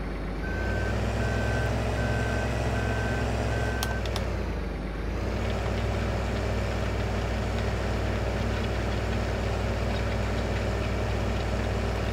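A Farming Simulator 15 tractor running with no load, its engine droning steadily; a repeating reversing beep sounds early on, then the engine note dips and climbs as it picks up speed and holds.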